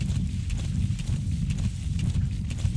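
Horse hooves galloping in Metal Gear Solid 5: The Phantom Pain, a fast, continuous rhythm of heavy thudding hoofbeats, loud and close, without talk.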